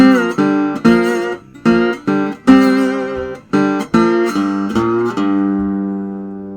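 Guitar playing a verse line, a run of plucked notes and chords in bursts with short gaps, loud and close, ending on a sustained ringing note that fades out.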